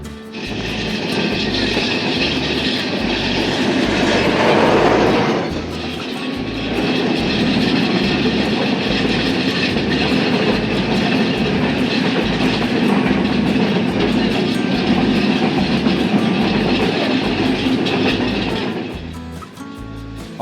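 A Dhaka to Rajshahi express train rumbles along the rails with a steady rhythmic clatter of wheels, loud and close, with a brief shift in the noise partway through.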